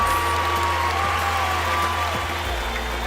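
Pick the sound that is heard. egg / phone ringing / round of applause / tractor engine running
round of applause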